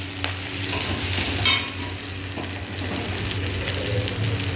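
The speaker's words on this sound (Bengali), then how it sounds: "এরকমভাবে মশলাগুলোকে সুন্দর করে কষিয়ে নিতে হবে।" Ground spice pastes such as cumin and ginger are fried and stirred in a pan with a continuous soft sizzle. Occasional scraping strokes pass through it, and no one talks.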